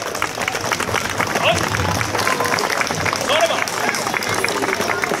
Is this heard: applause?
yes